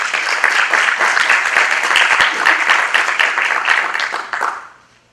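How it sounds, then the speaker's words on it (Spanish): An audience claps loudly and densely to welcome a speaker at a formal legal lecture. The applause is sustained with sharp individual claps and fades out quickly near the end. "a quien recibimos con un fuerte aplauso"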